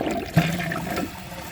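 A 2022 Mainstays high-efficiency toilet flushes a grocery bag, giving a brief close rush of swirling water that peaks early and then thins into a weaker gurgling drain, with no voices.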